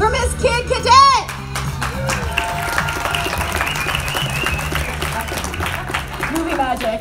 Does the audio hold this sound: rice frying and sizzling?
no